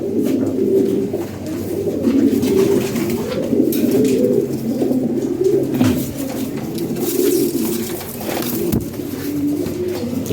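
Fancy pigeons coo steadily in a loft, with repeated low, rolling throaty calls overlapping close by for several seconds, an occasional wing rustle and no talk.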